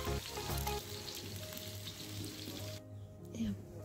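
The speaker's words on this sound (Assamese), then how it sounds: "খালি কেৰাহীত পিঁয়াজ বহাই দিলে বাহঁতে" Onions sizzle in a hot wok in a home kitchen, a faint, steady frying hiss with a low hum underneath and some quiet background sounds.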